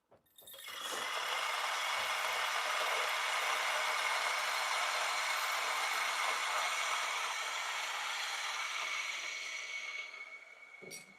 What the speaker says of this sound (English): So DF83 with a pretty low RPM as well.